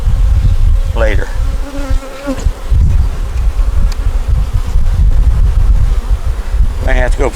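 Honeybees buzz densely and loudly around an opened beehive, a constant close drone with individual bees zipping past the microphone, and a voice talks briefly amid the swarm.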